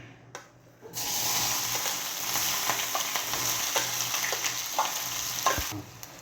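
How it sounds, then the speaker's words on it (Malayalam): Onion, garlic and ginger frying in oil for papadam chammanthi, a close, steady sizzle that starts abruptly after a moment of quiet, with scattered stirring scrapes and ticks throughout before cutting off at the end. "നമുക്ക് ആ എണ്ണയിലോട്ട് നമുക്ക് ഈ സവാളയും ഈ വെളുത്തുള്ളി ഇഞ്ചിയും നമുക്ക് വറുത്തെടുക്കാം."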